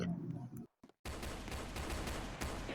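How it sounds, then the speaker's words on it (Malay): Rapid video game gunfire with bursts of shots, cut by a short silence and then resuming as a dense, continuous volley at moderate level. "Dia dah start tembak-tembak."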